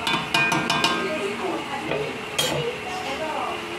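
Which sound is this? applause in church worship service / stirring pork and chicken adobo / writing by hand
stirring pork and chicken adobo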